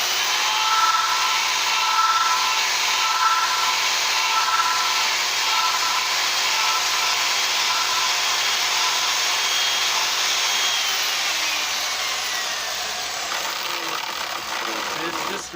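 A chainsaw making a light, gentle smoothing cut during wood carving gives a loud, close, steady buzzing whine that holds nearly constant throughout, easing slightly near the end.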